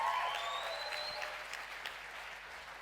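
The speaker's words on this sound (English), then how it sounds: "Give her a big round of applause." Audience applause at a money, wealth and business conference in South Africa, a steady wash of clapping that holds level and eases slightly toward the end, with a few whistle-like cheers near the start.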